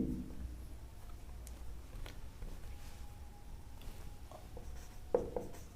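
Pen scratches faintly on paper while a maths solution is written out in a quiet room, with soft intermittent strokes and a couple of sharper taps near the end.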